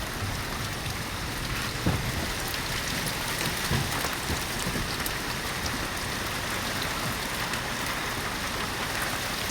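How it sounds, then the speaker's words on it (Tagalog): Steady rain pours down in a constant dense hiss, with a few heavier drops tapping nearby. "Ayan po, tumutulo ng ulan."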